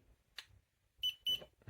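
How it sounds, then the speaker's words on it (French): A SOVARCATE infrared laser thermometer gun gives two short, shrill beeps a fraction of a second apart, close by, between quiet stretches and brief bits of talk. "Le bip bip qui vous casse la tête."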